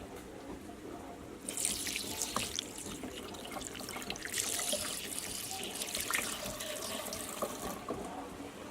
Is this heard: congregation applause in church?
no